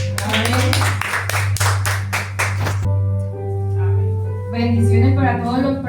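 A church congregation claps in a steady rhythm for about three seconds over a low electrical hum, then the clapping stops and a voice speaks.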